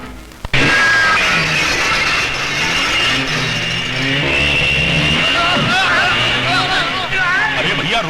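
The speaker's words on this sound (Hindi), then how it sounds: "अरे भैया मोटरसाइकिल संभालो। मेरे घर को हाईवे समझकर घुसे चले आ रही हो।" A motorcycle speeding toward a house, a loud, continuous engine roar that begins abruptly and holds steady, with several people shouting and talking over it.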